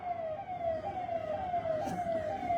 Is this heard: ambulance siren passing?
yes